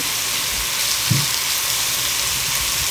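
Oil frying in a pan for mango kuchela, a steady close sizzle with a brief soft knock partway through.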